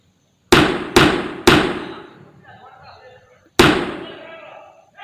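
A shootout's gunfire: three loud, sharp bangs in quick succession, each trailing off in a ringing echo, then a pause before a fourth shot.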